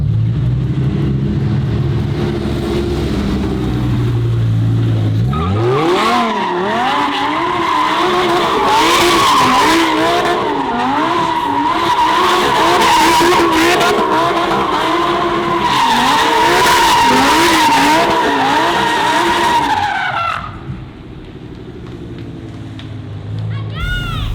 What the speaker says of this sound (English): The problem is Porsches aren't made to do this. They're meant to handle good. They don't want to spin out.